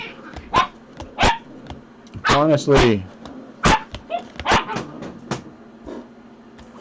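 Two small dogs bark, yip and growl in sharp, close bursts, several quick barks followed by a drawn-out whining yelp, with a voice talking between them indoors.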